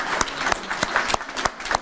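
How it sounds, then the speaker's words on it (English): Scattered applause from a small school-event audience honoring culinary arts students, a few distinct claps ringing out close by, irregular and fairly sparse over a short stretch. "Please give a round of applause to our culinary arts students."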